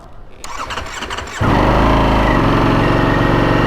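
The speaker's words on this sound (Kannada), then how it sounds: "ಇವಾಗ ಸ್ಟಾರ್ಟ್ ಮಾಡಿದ್ರೆ ನೋಡಿ ಕೋಲ್ಡ್ ಸ್ಟಾರ್ಟ್ ಏನು ತೋರಿಸುತ್ತೆ ಅಂತ" A 2025 Ducati Panigale V4 V4 engine cold-starts with a brief starter whir, then catches and settles into a loud, steady elevated idle that holds close and continuous with no talking.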